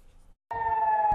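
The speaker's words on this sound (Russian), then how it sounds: "На юге Израиля вновь слышны звуки сирены воздушной тревоги." An air raid siren sounds in southern Israel, starting abruptly after a brief silence and holding a loud, steady wailing tone to the end.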